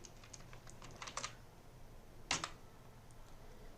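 Java code being typed on a computer keyboard, a quiet run of light key clicks with a small burst of taps and one louder keystroke, close and without speech.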